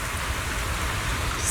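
Steady rain falling in a video game, an even, dense wash of drops that is close and continuous throughout, with no talking.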